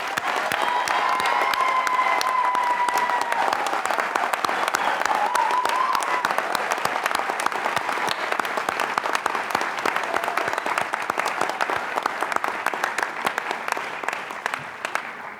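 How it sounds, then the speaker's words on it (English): Loud, sustained applause from an audience at a Dean's List ceremony honoring students, dense clapping with some cheering filling the whole stretch, with faint voices and a brief whistle-like tone early on. "please join me one more time in a resounding round of applause for our milestones students and Dean's List recipients"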